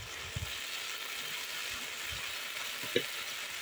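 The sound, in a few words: spices frying with jackfruit and potato in a pan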